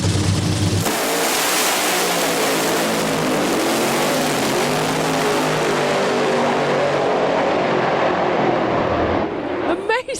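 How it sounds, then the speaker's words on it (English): A top fuel dragster races a top fuel funny car at Santa Pod drag strip: a sudden deafening nitro engine roar, sustained and crackling for nine seconds before cutting off. "We're going to see a top fuel dragster racing against a top fuel funny car."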